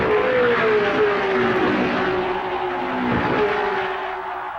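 Loud, continuous roar of 1965 Indy 500 race cars on the track, a strong engine tone sliding downward as a car slows, with a second engine pass overlapping partway through and no talking.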